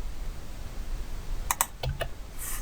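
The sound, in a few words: typing on a computer keyboard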